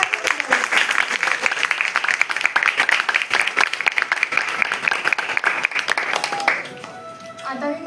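Applause from a school ceremony audience, dense continuous clapping for winning students that fills most of the stretch, then thins out toward the end while a voice starts speaking.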